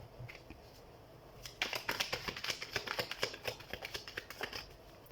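Tarot cards being shuffled by hand, a quick run of soft riffling slaps and flicks that starts after a quiet pause and continues rhythmically to the end, close and fairly faint.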